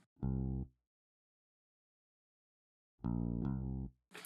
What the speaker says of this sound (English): The analog bass uses these specific settings and sounds like this.